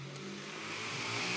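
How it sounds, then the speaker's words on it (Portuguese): A motorcycle passing outside, its engine rising in pitch and growing slightly louder as it accelerates, a muffled mid-range drone heard from indoors, no voices. "Eita, moto desgraçada."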